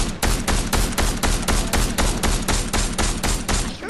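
Rapid automatic gunfire in a video game, a steady rhythmic burst of roughly fifteen sharp, loud shots at an even pace across four seconds.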